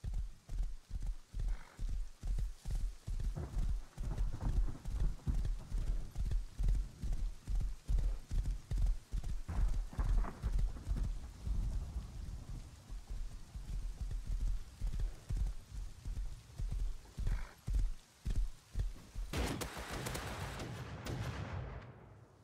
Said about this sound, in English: On the horse now, so.